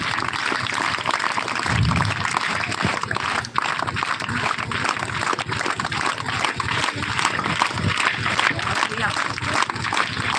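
Students clap steadily at a school groundbreaking ceremony, a dense, continuous crowd applause that lasts throughout, with voices talking over it.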